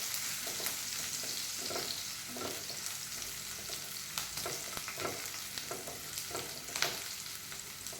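Finely chopped green chilli sautés in hot oil in a pan, giving a steady close sizzle broken by soft scraping stirs, with no voices.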